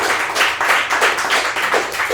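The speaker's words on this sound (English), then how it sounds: "round of applause to Taylor." Audience at a tech talk on loyalty points giving a round of applause, close and fairly loud, with individual claps audible in a quick uneven rhythm and no voices.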